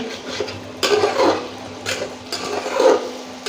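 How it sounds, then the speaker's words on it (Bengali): Pigeon meat being stirred and sautéed in a pan, with a low sizzle and several separate scraping, clattering strokes of a spoon against the metal, close and moderately loud. "এবার আমি নেড়ে এখানে দেখুন মাংসটা আমি কষিয়ে নিচ্ছি"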